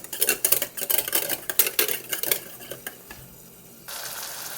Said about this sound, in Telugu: ఈలోపు మనం పెరుగును బీట్ చేసుకుందాం.